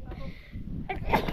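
A sudden, sharp sneeze bursts out near the end, following a stretch of low, muffled background noise and indistinct voices.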